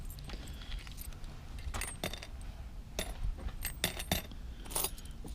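Old keys, flat keys and a jewelry box key among them, jangle and clink while being sorted outdoors in sunshine, with scattered metallic clicks and rattles in irregular bursts, close and moderately loud.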